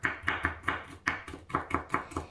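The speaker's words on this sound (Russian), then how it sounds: "Несколько зубчиков чеснока рублю мелко." A knife chops garlic cloves finely on a board, giving a quick, irregular run of crisp close taps with short pauses between bursts.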